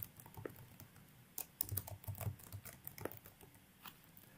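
Keys clatter on a computer keyboard as a password is typed, faint and close, in irregular quick bursts with a denser run of clicks in the middle, and no talking.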